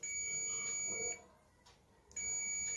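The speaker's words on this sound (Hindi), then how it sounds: "मल्टीमीटर की जो दोनों लीड हैं उसको हम आपस में टच करेंगे तो एक कंटिन्यू बजर की आवाज़ आती है।" A multimeter in continuity mode sounds a steady high-pitched buzz while its two leads touch, the tone cutting off for about a second, then returning.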